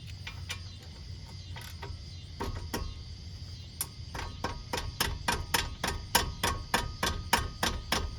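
An impact wrench hammers at a brake bolt on a 2018 Subaru Outback during a front brake job, sparse sharp rattling bursts at first, then a fast, steady run of loud hammering impacts.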